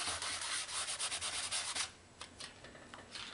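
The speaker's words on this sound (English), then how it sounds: "Take my sanding block" A sanding block scrubs across textured metal clay in quick, close back-and-forth strokes, a soft raspy rub repeated in a fast rhythm, then lighter, sparser passes.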